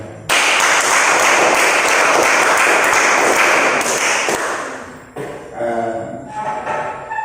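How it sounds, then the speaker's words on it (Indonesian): Classroom applause for a student group, a dense burst of many hands clapping that fills several seconds, then thins and fades as a voice begins speaking. "Ya kalau tidak ada, tepuk tangan dulu untuk kelompok 2."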